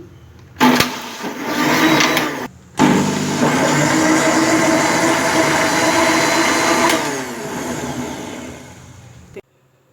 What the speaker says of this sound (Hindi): अब इसको मैं ग्राइंड कर लूँगी